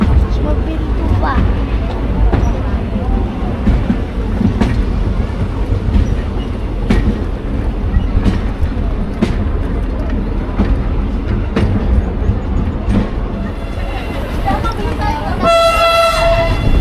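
Tourist train at the Ambarawa railway museum, heard from on board as a steady rumble and rhythmic clatter of the cars on the rails, with a horn-like tone near the end and people talking throughout.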